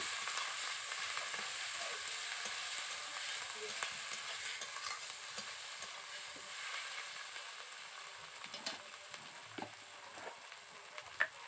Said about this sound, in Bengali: এবার আমি মশলাগুলোকে ভালো করে কষে নিচ্ছি।